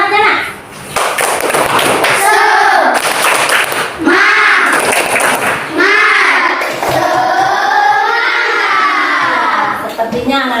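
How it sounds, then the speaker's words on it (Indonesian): A classroom of children chants together in loud, sustained voices while clapping a rhythmic motivational cheer, with scattered hand claps and thumps running under the group chanting throughout. "Coba ibu beri dulu tepuk semangatnya nak."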